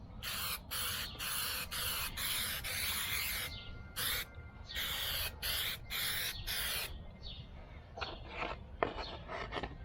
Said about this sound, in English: you basically just have to spray both surfaces with it, wait for it to go tacky, and then stick them together